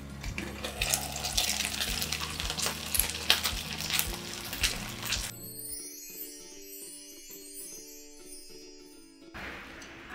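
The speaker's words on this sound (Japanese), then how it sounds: "蓋をして3、4分ほど蒸し焼きにしていきます。" Pork and garlic chive buns steam-fry in a covered pan with water added, giving a steady hissing sizzle under soft background music that then carries on alone.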